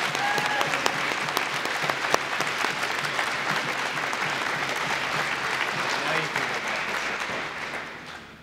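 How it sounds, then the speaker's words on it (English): A high school awards ceremony audience breaks into steady applause, a dense, evenly sustained clatter of many hands that tapers off near the end, with a faint voice briefly audible early on. "Give a big round of applause for all of these agencies."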